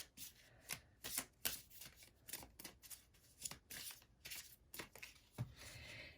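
Tarot cards being shuffled by hand, soft riffling and slapping bursts in an uneven rhythm, close but quiet with no voices.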